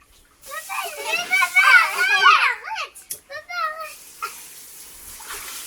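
Children shout and play in a swimming pool with water splashing and trickling around them, their excited voices loud and close, easing into softer splashes.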